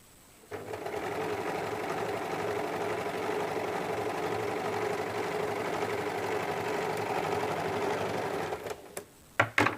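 A sewing machine runs in one steady burst, double-stitching the belt of a size 34 blouse, its close, even mechanical whir starting abruptly and stopping near the end with a few clicks, no voices.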